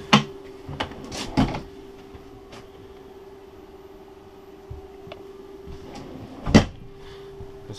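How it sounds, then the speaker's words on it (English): Drawers in the dinette of a 2015 Airstream Classic 30J travel trailer open and close in a few short sharp knocks and slides, spread out with quiet gaps and one louder bump near the end. "There's a drawer on each side."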